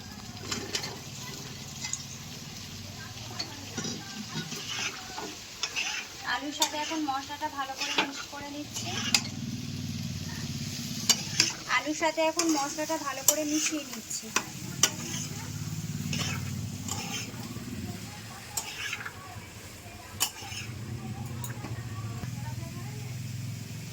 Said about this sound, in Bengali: এবার এতে কেটে রাখা আলুগুলো দিয়ে দিচ্ছি